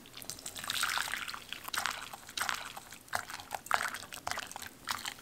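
Water is poured into a measuring cup while brewing kombucha tea. The trickling and splashing come up close in several uneven bursts with brief pauses between them.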